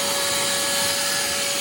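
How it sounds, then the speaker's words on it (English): Vacuum cleaner running steadily while cleaning a car interior at a detailing shop: a loud, even, high-pitched whine with a broad hiss, close and alone. "now we're gonna start the vacuum"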